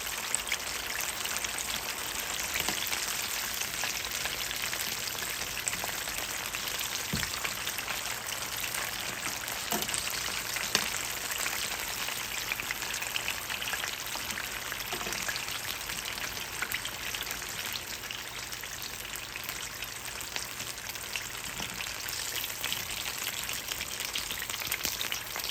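Spring rolls deep-fry in oil with a dense, even bubbling hiss that holds steady throughout, with occasional faint pops and no talk.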